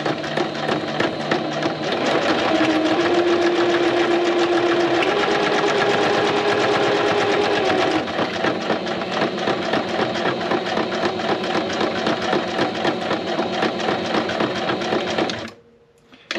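A sewing machine stitches continuously for about fifteen seconds, a loud, close, even mechanical drone that cuts off abruptly at the end.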